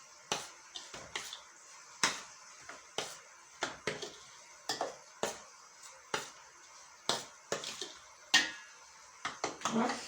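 Peanuts and dried nuts are stirred together in a pan, giving a steady stream of sharp, close scraping clicks and rattles at an irregular rhythm, with quiet talk heard faintly now and then.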